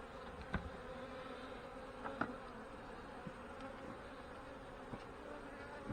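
Honey bees buzz steadily during a hive inspection, a faint continuous drone close by with a few soft knocks and taps from handling the frames, no voices.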